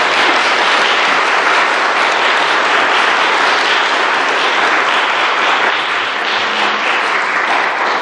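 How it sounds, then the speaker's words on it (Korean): A church congregation applauds to welcome the pastor, with dense, loud, continuous clapping that holds steady for the whole stretch and no talk over it. "우리 목사님 나오실 때 할렐루야로 함께 박수하면서 환영하면 좋겠습니다."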